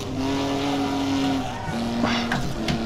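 A race car in a racing video game slides around a corner, its engine droning steadily under a tire squeal, with a brief shift in pitch partway through.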